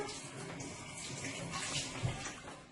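Chopped fresh coconut is rinsed under running water from a tap, a soft continuous splashing and trickling with faint shifting surges, quiet and close.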